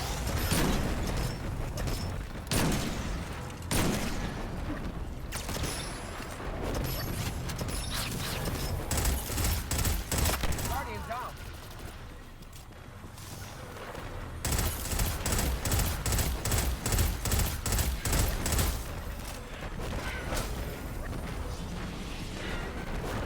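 Pulse rifle bursts ring out in Destiny 2 during a Grandmaster strike, with repeated rapid volleys of loud, close gunfire mixed with game effects and mechanical clanks.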